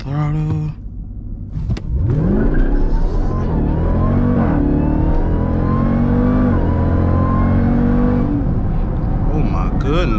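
A Jeep Grand Cherokee Trackhawk launches from a stop, its engine roaring loud and close as the revs climb in rising sweeps through the gears, with a brief voice near the start.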